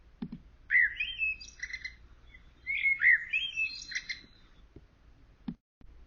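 A recorded blackbird sings two similar phrases in a row. Each is a clear whistled note followed by quick chirping trills, heard alone with quiet gaps and a soft knock at the end.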